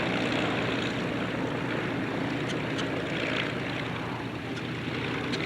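Curtiss P-40 Kittyhawk warbird flying at the 1992 Warbirds Over Wanaka airshow in New Zealand, its propeller engine a steady, broad droning roar heard at a moderate distance throughout.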